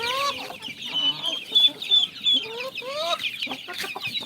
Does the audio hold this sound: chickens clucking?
yes